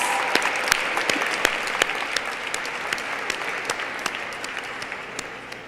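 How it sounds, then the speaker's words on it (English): A crowd at a finance symposium for Women's History Month applauds loudly, a dense steady wash of clapping with sharper individual claps standing out, sustained throughout and slowly fading near the end. "I want to hear a loud applause for that."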